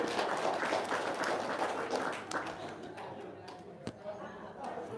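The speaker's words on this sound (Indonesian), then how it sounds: "Tepuk tangan dong." Applause from an audience at an evening gathering, a dense steady patter of many hands clapping close by, thinning toward the end, with voices mixed in.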